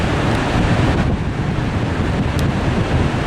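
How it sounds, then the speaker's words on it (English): Strong wind buffets the microphone at an Oregon beach near an arch rock, a steady loud roar mixed with surf, continuous and close throughout with no talking. "Wind's blowing really hard here"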